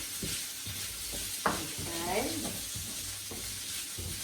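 Bell peppers are stirred in a stir fry pan for a vegan lotus root stir fry, with a steady broadband sizzle and a few scraping strokes, while a voice speaks briefly over it.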